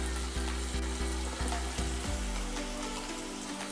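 Carrots and other vegetables frying in a pan for Chinese samosa filling give a steady, loud sizzle throughout, with a few soft stirring knocks early on.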